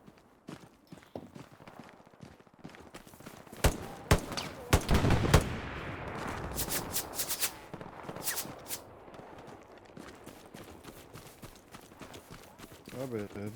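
Gunfire in a multiplayer shooter game, scattered sharp shots and short bursts, densest in the middle, mixed with hoof-like clatter and players chatting throughout.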